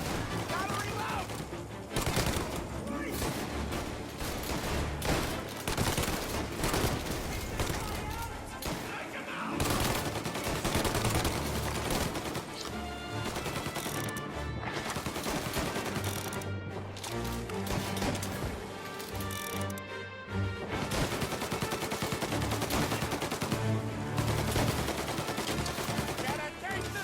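Rapid bursts of gunfire from a shootout in Mafia: Definitive Edition, dense and continuous under a steady bed of music and effects, with shouting voices over the action.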